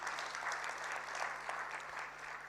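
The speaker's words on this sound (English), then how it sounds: "Please give him another round of applause." Audience applause at a budget review dinner session, steady and continuous clapping from a large room, fairly distant and even throughout.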